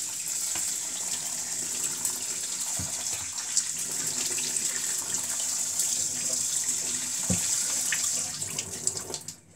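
Tap water running steadily into a sink as rice is rinsed in a colander, a continuous close splashing hiss with a few faint knocks, no voices.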